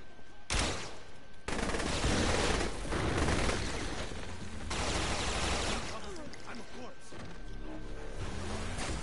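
Continuous video game gunfire in Saints Row The Third Remastered, dense bursts of loud rapid shots filling the whole stretch with brief gaps, mixed with other game noise.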